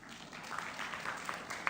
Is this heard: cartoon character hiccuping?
no